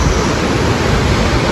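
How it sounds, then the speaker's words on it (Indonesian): Night waterfall at Curug Cipendok on the forested slope of Mount Slamet, a dense, steady roar of falling water filling the whole short stretch at constant loudness, with no voices. "Air terjun malam hari di Curug Cipendok atau di lereng Gunung Slamet."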